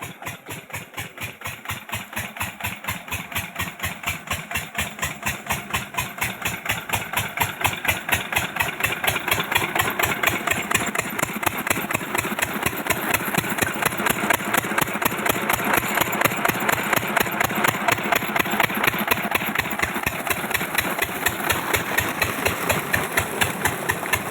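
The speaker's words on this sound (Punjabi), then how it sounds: "ਇੰਜਨ ਚੱਲਦਾ ਤੁਹਾਨੂੰ ਵਿਖਾਉਣੇ ਆ" A farm borewell engine runs close by, its steady, rapid thumping beat continuing without a break and growing slightly louder after the first few seconds. No voices are heard.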